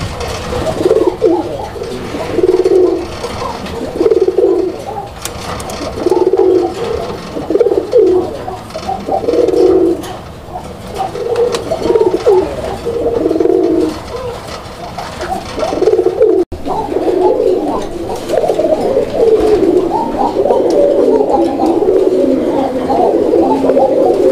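Male pigeon from a master pair coos repeatedly in a loud, close, rhythmic pattern of low throaty calls, with faint background chatter.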